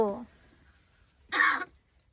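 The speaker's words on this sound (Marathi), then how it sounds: "खोकला झालाय जास्त" A voice fades out, then after a short pause a single harsh, breathy cough bursts out close by.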